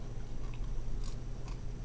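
Someone bites and chews homemade bacon that is hot and lean, giving a few sharp crisp crunches over a low steady background hum, close to the ear and fairly quiet.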